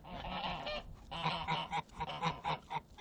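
Geese honk close by while a male goose tries to mate with a female after chasing off a rival female, giving a rapid run of loud, overlapping nasal honks in bursts.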